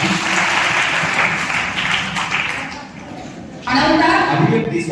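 Loud, sustained applause from a crowd at a children's reading and literature convention in Parbhani, honoring students. A thick wash of many hands dips briefly, then swells louder near the end, with talk mixed in.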